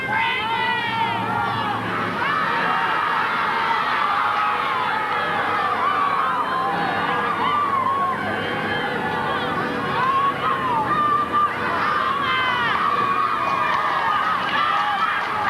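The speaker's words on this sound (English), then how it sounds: "Fabulous atmosphere, great crowd." A large rugby league crowd at Carlaw Park roars and cheers steadily throughout a match, a loud, continuous stadium din with shouts and whistles rising above the babble.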